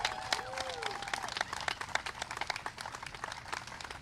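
Scattered outdoor clapping from a small crowd for Joe and Jennifer at a city dog park event, with individual claps audible and fairly faint, plus a brief whistle-like tone early on.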